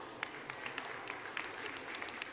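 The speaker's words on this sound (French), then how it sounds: "je crois qu'on peut les applaudir très fort" An audience at a Chartreux cat show claps for the prize-winning best female of the exhibition, a faint, steady patter of scattered hand claps in a hall, with no voices on top.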